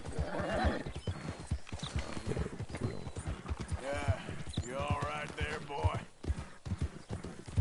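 Hooves clip-clop and a horse whinnies in Red Dead Redemption 2 as the rider feeds the horse a carrot, with someone talking over the sounds.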